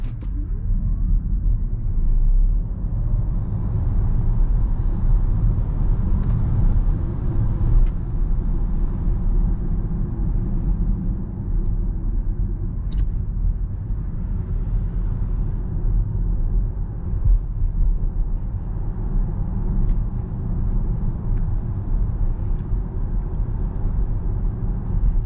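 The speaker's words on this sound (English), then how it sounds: "So this is the 0 to 100 in the 2021 Volkswagen ID4 GTX" A 2021 Volkswagen ID4 GTX electric SUV accelerates from 0 to 100, with a steady low road and tire rumble filling the cabin and a faint electric whine rising early on.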